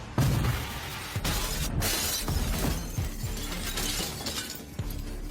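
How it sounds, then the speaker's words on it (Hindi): Glass windows shatter in a hotel in a dramatic movie-style scene: a loud, sustained run of crashing, breaking glass with repeated sharp impacts and rattling debris over several seconds, with no speech. "सभी खिड़कियों के टूटने के साथ निक ने तुरंत महसूस किया कि यह होटल फिर से सिकुड़ने लगा है।"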